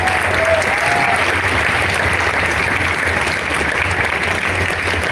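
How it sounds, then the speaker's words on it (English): An audience applauds after an outdoor dance performance at an open-air theatre, a sustained wash of many hands clapping that stays strong throughout and eases slightly near the end, with no talk over it. "Once again, a round of applause for all of them as well."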